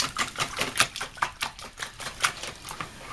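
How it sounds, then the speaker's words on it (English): A whisk beats two dozen raw eggs in a bowl, making a quick, steady rhythm of close clicking taps against the bowl's sides. "I have 2 dozen eggs, which I'm just going to whisk together here real quick"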